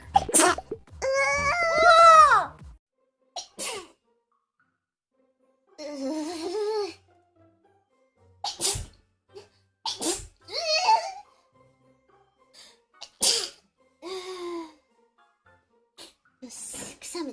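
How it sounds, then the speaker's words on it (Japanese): A woman lets out a series of sneezes and sneeze-like vocal bursts, short and close, separated by quiet gaps, with some squeaky voiced sounds between them. "よし、くしゃみ助かる。"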